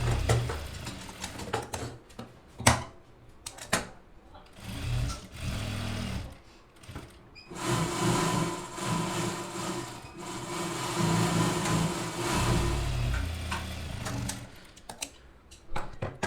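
A sewing machine stitches lace onto the edge of a lined suit, running in several bursts of rapid rhythmic needle clatter broken by pauses and handling clicks, close and fairly loud.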